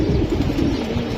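Red khaki pigeons coo in a low, soft, continuous murmur, close by and steady throughout the short moment.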